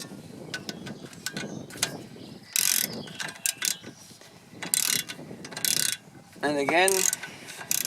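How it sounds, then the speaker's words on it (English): A normal ratchet snugs down a brake caliper bolt on a 2008 Citroen Xsara Picasso during a right rear pad and disc job, giving several bursts of quick, close clicking with pauses between them and brief speech in between. "we can just tighten it down with a normal"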